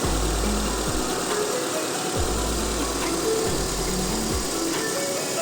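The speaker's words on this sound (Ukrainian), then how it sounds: "Ось так працює двигун." A 2007 Renault Grand Scenic 2's 1.6 petrol engine with 267,000 km idles steadily with a low rumble and faint rhythmic knocks, continuous and close throughout, no voices.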